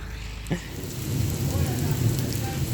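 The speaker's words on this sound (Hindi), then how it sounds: "बारिश तेज़ हो गई है" Heavy rain pours down on a village in Punjab, Pakistan, a steady dense hiss that swells louder after a brief thunder-like thump near the start, with no talking.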